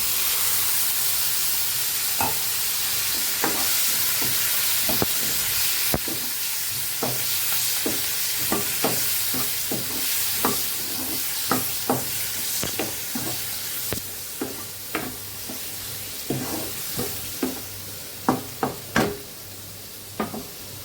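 Spice paste sautéing with vegetables and a splash of water in a pan, a continuous sizzle and hiss punctuated by repeated sharp knocks of a spoon stirring against the pan, growing more frequent toward the end.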